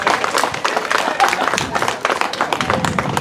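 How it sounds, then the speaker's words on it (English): Audience applause at a Shakespeare-themed holiday stage show, dense crowd clapping with scattered claps and a few voices, steady and fairly loud throughout. "Give yourselves applause"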